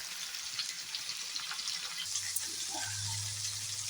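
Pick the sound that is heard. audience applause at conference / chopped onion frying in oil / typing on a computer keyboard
chopped onion frying in oil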